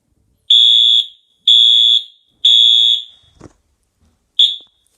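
A fire alarm wired to a pull station sounds four loud, shrill electronic beeps, the first three long and evenly spaced and the last short, with a brief thump between them.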